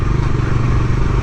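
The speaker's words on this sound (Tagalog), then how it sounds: "So gamit nga pala nating motor ngayon, Dominar 400" A Kawasaki Dominar 400 UG2 motorcycle engine runs with a steady, close, low rumbling drone and a light mechanical clatter that holds throughout without pause.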